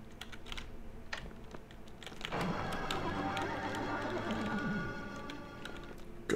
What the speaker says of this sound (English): Ghost horse. Sound clip.